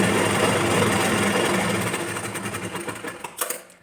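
A sewing machine runs close by with a fast, steady mechanical whirr while stitching a blouse sleeve. It slows and stops near the end with a few final clicks.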